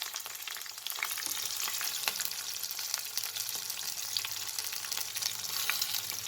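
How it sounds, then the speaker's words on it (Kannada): Onions fry in oil for gobi butter masala, giving a continuous, even crackling sizzle close by with faint occasional stirring clicks. "ಆಮೇಲೆ ಆನಿಯನ್ ಹಾಕ್ತಾಯಿದ್ದೀನಿ. ಎಲ್ಲನೂ ಫ್ರೈ ಮಾಡ್ಕೋಬೇಕಿದು."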